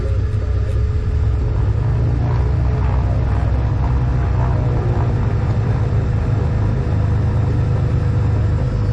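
Twin engines of a Cessna 310R idle side by side, a loud, steady low rumble with a faint uneven throb and no pauses throughout.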